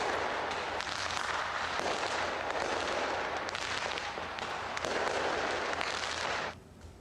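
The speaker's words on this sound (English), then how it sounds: "New Zealand was among the first to welcome 2025 with a stunning fireworks display from Auckland's Sky Tower as the clock struck midnight" New Year's midnight fireworks over Auckland's Sky Tower in New Zealand, a dense, continuous barrage of crackling bursts and booms rolling in waves, loud and sustained before cutting off abruptly near the end.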